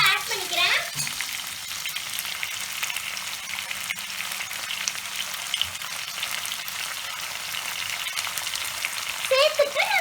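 Cut tomatoes fry in a pan for a dried fish curry, a continuous moderate sizzle with occasional stirring scrapes and a faint voice nearby.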